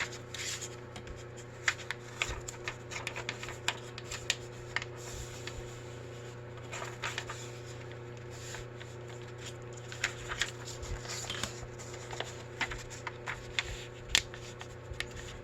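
Paper being folded by hand to make double book page pockets, with soft rustling and creasing under a steady room hum, small scattered crinkles throughout.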